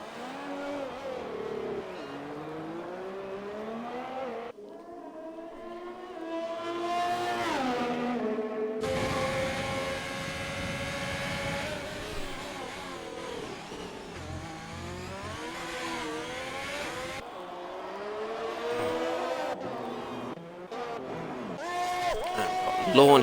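Formula 1 car lapping the Monaco street circuit, engine note rising and falling through gear changes and corners, continuous and fairly loud, with someone talking over it throughout.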